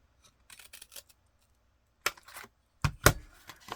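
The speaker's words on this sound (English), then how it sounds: "Cut a partial hole." Scissors cutting a partial hole in brown paper for collage tags, heard as sparse soft snips and rustles, then a few louder, sharper closing snips near the end, close and quiet.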